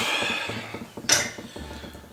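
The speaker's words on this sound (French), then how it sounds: "Rangeons la vaisselle, n'est-ce pas?" Dishes and cutlery being put away in a family home: light clinks and knocks of crockery and utensils, scattered and fairly close, with a brief brighter clatter midway and no talking.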